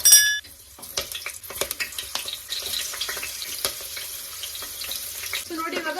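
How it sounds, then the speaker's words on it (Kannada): Green chili pieces dropped into hot oil for mutton boti soup: a short loud clatter at the start, then a quiet, steady crackling sizzle with scattered pops, rising slightly near the end. "ಇವಾಗ ಇದ್ರೊಳಗಡೆ ನಾನು 1 ಮೆಣಸಿನಕಾಯಿ ಒಳಗಡೆ 2 ಪೀಸನ್ನಾಗಿ ಮಾಡ್ಕೊಂಡು ಹಾಕೊಳ್ತಾ ಇದ್ದೀನಿ."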